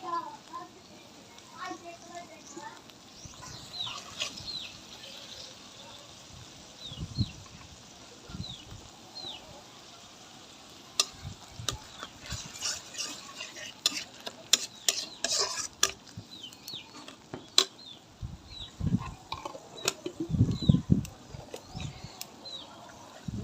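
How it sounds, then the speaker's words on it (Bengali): Prawn paste and ginger-garlic paste fry in a pan for a taro-leaf dish, heard as faint sizzling with repeated spoon scrapes and clinks. Children's voices and chatter come through in the background. "এইখানে আমি চিংড়ি মাছ বাটাগুলিও দিয়ে দিব একই সাথে তো আর দিয়ে দিব আদা রসুন বাটা"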